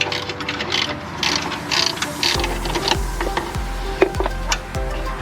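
A ratchet wrench tightens 19mm nuts while rear suspension parts are reinstalled, giving a fast run of sharp mechanical clicks followed by a series of slower, heavier ratcheting strokes, close and loud.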